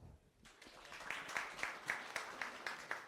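Faint, thin applause at a venture capital panel event, a few people clapping in a slow, evenly spaced rhythm that sounds distant and sparse.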